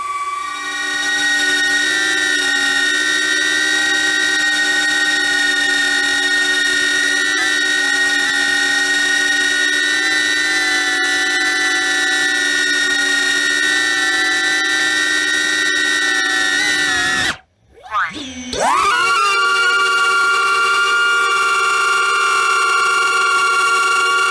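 A DJI Neo drone fitted with 5-blade Gemfan props hovers close with a loud, steady high-pitched whine. Near the end the pitch briefly dips and swoops, then settles back into the tone.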